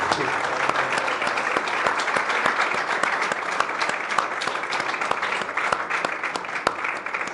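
Sustained, dense applause from a festival audience in Lanzarote for the author Aixa de la Cruz, an even wash of many hands clapping with a few sharper claps standing out, no voices.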